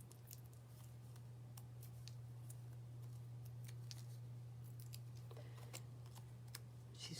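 Scissors trim paper for handmade card making, a series of short crisp snips scattered irregularly over a low steady hum, close and fairly quiet, with no talk.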